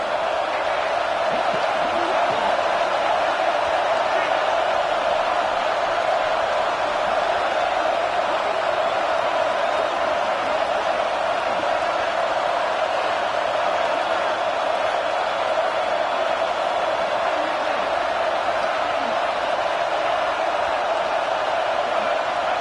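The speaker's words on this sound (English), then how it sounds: "with this place rocking, the crowd forces a false start" A packed football stadium roars loudly at a UNC versus Tennessee game as the offense goes for it on fourth down, a dense, unbroken crowd din holding steady throughout.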